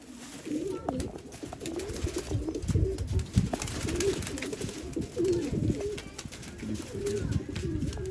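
Pigeons in a tree at a flying-pigeon loft coo steadily, with overlapping low, rolling coos repeating throughout over a busy outdoor background.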